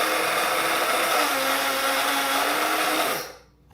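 Coffee beans being ground in a kitchen grinder, a loud, continuous whirring buzz for a few seconds that then stops abruptly.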